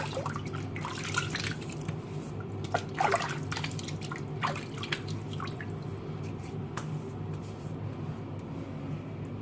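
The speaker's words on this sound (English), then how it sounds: "I'm going to get my face wet." Water splashes and drips at a sink as a man wets his face before a straight-razor shave, soft irregular trickles and drops close by over a steady low hum, with no talking.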